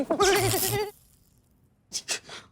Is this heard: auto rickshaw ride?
no